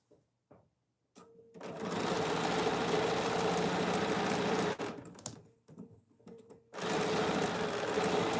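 A domestic sewing machine runs in two sustained bursts while a quilt is sewn, whirring steadily up close with a short pause and a few clicks between runs.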